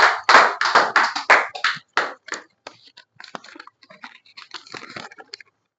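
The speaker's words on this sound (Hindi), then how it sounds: "जोरदार ताली से अभिनंदन करें भाई" An audience at a Hindi poetry gathering breaks into loud, close applause welcoming a poet. The clapping is dense for about two seconds, then thins into scattered, fading claps.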